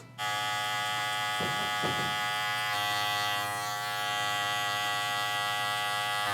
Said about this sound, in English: So I've opened the clipper up probably 3 times.